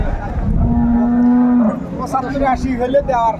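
A dairy cow moos once, long, loud and close, at the Ambari cattle market in Dinajpur, followed by fainter crowd murmur and calls from the market.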